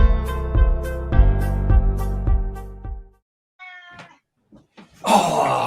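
A cat meows again and again up close, loud and even for about three seconds. After a short gap come a few quieter broken sounds, then a harsher burst near the end.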